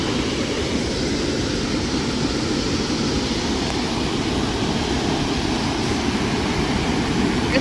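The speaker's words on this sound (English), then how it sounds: "I can feel the vibration of the water from up here." Water rushes loudly through a drain in limestone rocks outdoors, a dense, constant roar of broadband noise that stays steady and close throughout, with no voices.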